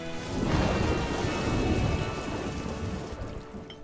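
Steady heavy rain with rumbling thunder in an animated cartoon, a dense continuous downpour that stays loud throughout with no voices.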